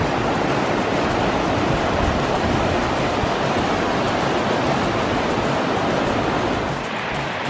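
River rapids in the canyon section of Alaska's Gulkana River, a loud, dense, unbroken rush of white water near at hand, steady throughout and easing slightly at the very end, no voices.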